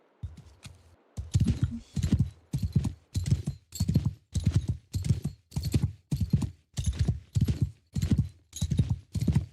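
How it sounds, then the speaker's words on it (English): Horse hooves clip-clop in a steady trotting rhythm in the medieval video game Mount & Blade II: Bannerlord, loud and close, beginning with a few lighter steps and continuing evenly with no talking over it. "I need a better fucking horse."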